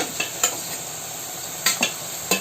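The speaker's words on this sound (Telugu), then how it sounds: "వీటిని కూడా ఆయిల్లో వేసి వేయించుకోవాలి" Pieces of boiled taro root fry in hot oil with a continuous hissing sizzle, broken by a few sharp scraping stirs spaced across the moment; close, no voices.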